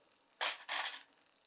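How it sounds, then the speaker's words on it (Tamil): Chopped onions sautéing in a pan, heard as two short bursts of broadband frying hiss, moderately close and fairly quiet, with no talking. "வெங்காயம் வந்து ஒரு கோல்டன் கலர் வர வரைக்கும் நம்ம வதக்கி எடுத்துக்கணும்"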